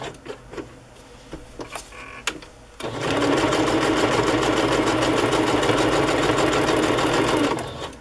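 A sewing machine stitches through embossed paper ephemera in a steady, loud, rapid run after a few quiet taps and handling noises at the start.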